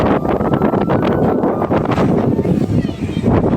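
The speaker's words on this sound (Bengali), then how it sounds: "বাতাস" Strong wind blowing across a rooftop under dark storm clouds just before rain, a loud steady rush buffeting the microphone with gusting surges.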